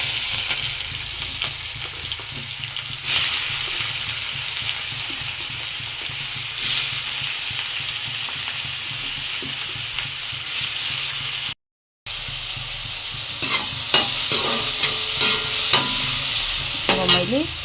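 Chopped onion sizzles in hot oil with cumin, coriander and cardamom, a steady crackling fry with scraping stir strokes throughout, briefly cut to silence near the end before the sizzle and clinks return.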